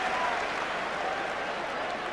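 A rugby stadium crowd at Wales v South Africa in 1999 roars and applauds in a steady, dense wash of noise, distant and sustained without a break.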